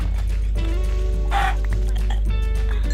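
A chicken in the Minecraft video game clucks a few times over steady game background music, with a brief brighter burst in the middle.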